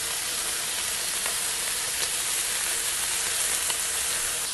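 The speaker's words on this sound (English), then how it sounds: "We'll drop our pork chops right in that." Pork chops sizzling on a Blackstone griddle, a steady dense hiss of frying that stays loud and even throughout with faint crackles.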